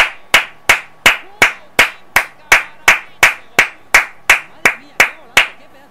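Slow, steady hand claps ring out one by one at an even pace, about sixteen sharp claps in a row, close and loud.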